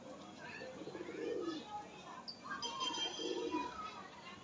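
Pigeons in a loft give two soft, low cooing phrases, faint and somewhat distant, over quiet room noise.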